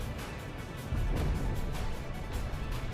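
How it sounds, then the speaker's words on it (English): A single explosion in the Ace Combat X video game bursts out as a loud, low rumbling boom over a steady background of game noise, then fades back into the ongoing din. "I heard one explosion."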